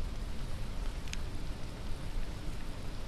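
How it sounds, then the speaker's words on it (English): Steady rain falls in the zombie survival game Dead Island, a dense, even hiss of drops at moderate loudness with no pauses and no voices over it. "Starting to rain."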